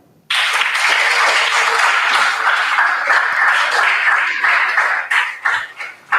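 School quiz competition audience breaking into loud sustained clapping that begins abruptly, holds steady for several seconds, then thins into scattered claps.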